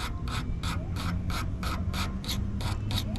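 Rasping strokes of a WRD winged trimming blade being sharpened to remove edge burrs, about ten even back-and-forth passes in steady rhythm, close and fairly loud with no talk.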